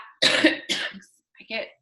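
A person coughs up close, two harsh bursts in quick succession, a short pause, then one weaker cough.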